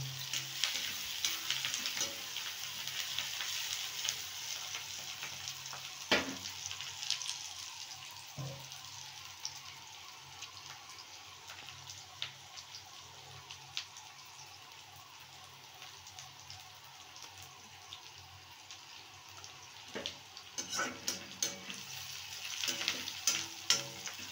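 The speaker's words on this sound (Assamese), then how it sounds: "পিঁয়াজখিনি অলপ ৰঙা কৰি লওঁ দেই" Onions browning in oil for a meat curry sizzle steadily in a pan, a fairly quiet hiss with occasional sharper pops and stirring knocks throughout.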